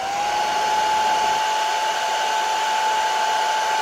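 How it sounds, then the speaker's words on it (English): A blow dryer running steadily on a cool setting, a constant close whirring hum with a faint high whine, no talking. "Then we take our blow dryer on cool setting."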